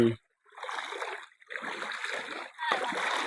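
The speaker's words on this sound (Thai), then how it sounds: "นี่น้ำไหลใสสะอาดได้ดีพี่น้องนี่" Clear water runs along a small stream beside the path to rice fields, a close, steady rush and splash that swells in three bursts after a brief quiet start.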